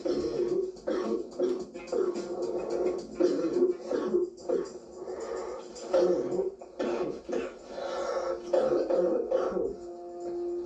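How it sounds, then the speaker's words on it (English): Deep, throaty smoker's coughing repeats in rough bursts for the whole stretch, close and fairly loud, with short gaps between fits. "It was very deep, throaty cough."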